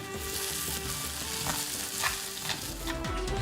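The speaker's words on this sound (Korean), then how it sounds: "지글지글 뜨끈뜨끈 미국 대륙의 주방에 센세이션을 안겨준 자랑스러운 대한민국 돌솥이었습니다" Food sizzles and crackles steadily in a hot Korean stone pot (dolsot), a dense, continuous hiss with scattered pops and a low clatter underneath, loud and close with no voices.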